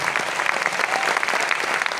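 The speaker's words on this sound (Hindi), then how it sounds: "एक बार जोरदार तालियां आपको बजना चाहिए।" Loud, dense applause from a large audience at a network marketing gathering, a continuous roar of many hands clapping close and steady throughout.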